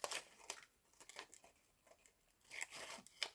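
Scissors snipping through a velum sheet, a few short crisp cuts with papery crinkling at the start and again near the end, close and quiet.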